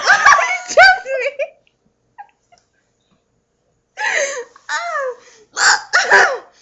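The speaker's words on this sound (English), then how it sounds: "Oh my god, those hiccups." Hiccups come as short, sharp vocal bursts mixed with giggling and squeaky laughter, close and loud, with a quiet pause in the middle before more hiccup-like yelps and laughter.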